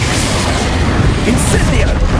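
A Confringo blast spell explodes in the game Hogwarts Legacy, a loud, dense burst of booming noise that fills the whole moment with no pause.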